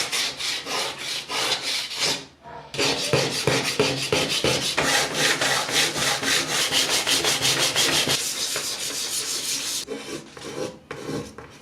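Fine sandpaper in 400 to 1000 grits rubbing over a cured epoxy resin piece for polishing, a steady close rasping scrub in fast back-and-forth strokes, pausing briefly, no talk.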